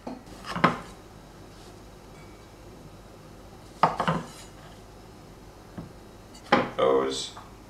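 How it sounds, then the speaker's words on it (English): A knife slicing cherry tomatoes in half on a cutting board while making a quick tomato sauce: a few separate cutting knocks spaced several seconds apart, with clatter and faint room noise between them. "With cherry tomato, I just need to cut it in half."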